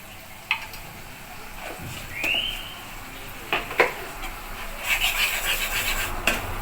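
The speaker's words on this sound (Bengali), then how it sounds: "ভালো করে কষাতে হবে বন্ধুরা মশলাটা" Masala with chilli is stirred and sautéed in a pan for chicken roast, scraping and rubbing strokes with a faint sizzle and scattered utensil knocks, moderately close, with no speech.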